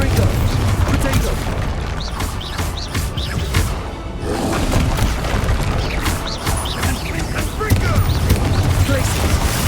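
Bombarda and Confringo explosion spells in Hogwarts Legacy, producing repeated loud blasts, crackling impacts and clattering debris over continuous battle noise, with a brief lull midway.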